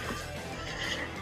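A horse neighs in an audiobook sound effect, a brief whinny set in a dense, noisy outdoor ambience with a hint of hooves, fairly faint and with no talking.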